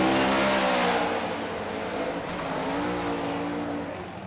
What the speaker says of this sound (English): Oh, Matt Field spins!